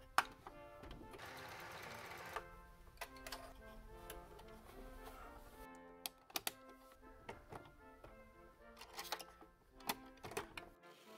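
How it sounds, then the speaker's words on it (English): An overlocker serges the raw edges of fabric panels for a medieval houppelande gown, a faint mechanical whir in short bursts broken by clicks and ticking of the machine starting and stopping. "First, I overlocked the raw edges of all my panels."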